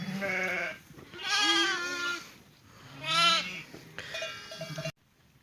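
Ewes and sheep bleating inside a winter sheepfold, three or four loud, wavering calls from close by, one after another, with no voices.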